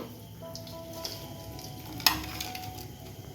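Okra (ladyfinger) pieces frying in hot oil, a steady soft sizzle with a few light clinks from stirring, one sharper tap midway, at low level.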